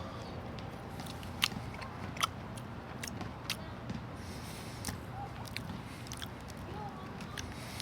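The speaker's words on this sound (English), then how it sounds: "I'm gonna rip a piece off and try to eat it without any other adornment." A piece of breakfast sausage-like meat torn off and eaten plain, heard as soft, close-up bites and mushy chewing with a few sharp clicks over a steady background hum.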